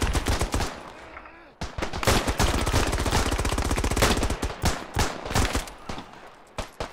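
MG08 machine gun firing in the video game Beyond The Wire, long rapid bursts of loud, close automatic fire with a few short breaks between them and no talk over it.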